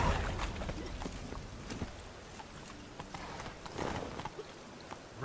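Roach, Geralt's horse in The Witcher 3, gallops with a steady clip-clop of hooves under a layer of game ambience, the hoofbeats moderately near and fairly even, with no talking.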